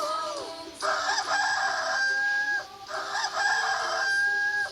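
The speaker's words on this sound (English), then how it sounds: "Is that the chicken?" Chicken calls come as two loud, close, drawn-out crowing phrases, each rising and holding before breaking off, with a short gap between them.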